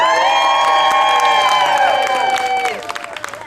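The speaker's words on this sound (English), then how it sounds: "And the crowd goes wild." A live crowd at a comic stage performance of a Romeo tragedy at EPCOT World Showcase cheers loudly. Sustained whoops and shouts carry over scattered claps, then break into short bursts as the noise dies away.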